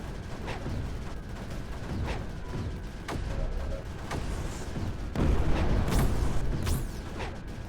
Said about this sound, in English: Immediately airstrikes coming in.